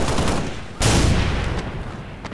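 A Warthog turret in Halo: Reach fires rapid bursts of heavy automatic gunfire, loud and close, with a sharp onset partway through followed by a sustained rattling stream and fading echoes.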